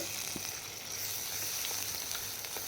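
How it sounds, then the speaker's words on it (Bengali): Ginger-garlic paste fries with onions in a pan for a fish dish, giving a steady, close sizzle and crackle that carries through the whole moment without any talking. "আদা রসুন বাটাটাও ভালো করে একটু ভেজে নিচ্ছি"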